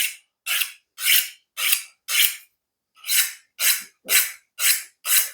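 A kitchen knife from an inexpensive thirty-dollar set is drawn across a hone in ten crisp, evenly paced rasping strokes, each a short bright scrape with a pause between, heard close and alone.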